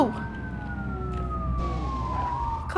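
Police car siren in the driving game BeamNG Drive, a wailing tone sliding steadily down in pitch with overlapping layers, fairly close and continuous for a few seconds over low engine rumble.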